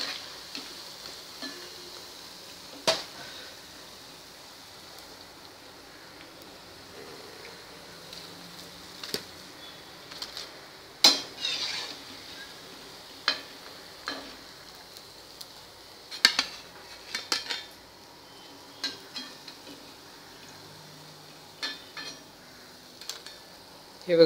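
Fried batata vadas are lifted out of a pan of oil in a home kitchen, giving scattered metallic clinks and scrapes of a slotted spoon against the pan over a faint background hiss, with no talking.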